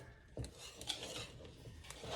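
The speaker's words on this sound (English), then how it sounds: "Just gonna mix this up." Low-protein pancake batter being mixed in a bowl, with a few soft scrapes and light clinks of a utensil against the dish, quiet and brief.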